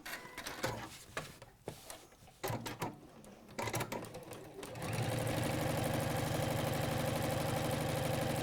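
A sewing machine starts in uneven short bursts, then settles into a fast, steady stitching run for the last few seconds, close and clear with no one talking.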